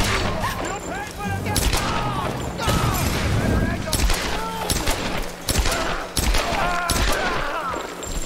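Rapid pistol gunfire cracks out in a Tomb Raider video game, a run of sharp, loud shots amid booming action sounds and crashes, with voices talking over the fight.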